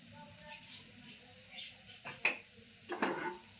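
Moringa drumstick pods fry in oil in a pan, a soft close sizzle broken by a few sharp scraping clicks as they are stirred.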